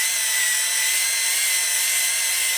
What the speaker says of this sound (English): I'm just trying to hone up and down in this real quick